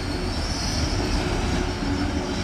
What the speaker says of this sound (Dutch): Dit is namelijk de tunnelblustrein.